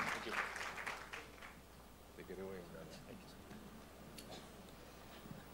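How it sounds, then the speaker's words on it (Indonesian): A church congregation with the Lifehouse community applauds to welcome a pastor: a loud burst of clapping at the start that fades within about two seconds, followed by someone talking. "Yuk kita sambut, kita kasih aplaus untuk hambanya Pastor Andre Tung."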